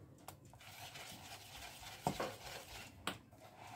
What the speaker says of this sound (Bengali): একটু ফেটিয়ে নিই।